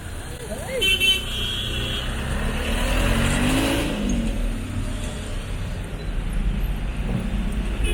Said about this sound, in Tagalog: Now the traffic has started to clog up.